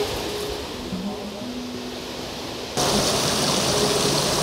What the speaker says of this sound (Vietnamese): Ở đây là con suối đây.